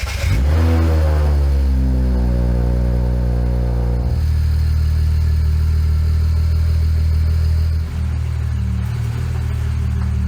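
A BMW 135i engine starts with a rising whine and then settles into a loud, steady rumble as the car creeps along inside a garage, heard up close.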